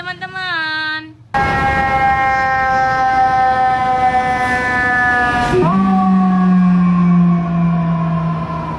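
A toy fire truck's electronic siren wails loudly and continuously, opening with a short different tone before settling into a steady, harmonically rich whine that shifts pitch partway through.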